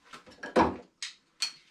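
A 10-inch wooden vanity drawer pulled and pushed along ball-bearing soft-close slides, a few short rolling swishes followed by two quick separate clicks, close and fairly quiet.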